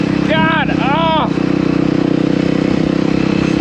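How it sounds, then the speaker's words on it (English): A dump truck's diesel engine rumbles loudly and steadily nearby as it passes, a low droning throb that continues throughout, with a voice speaking over it briefly near the start. "Stank ass damn dump truck."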